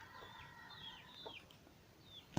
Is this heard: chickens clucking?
yes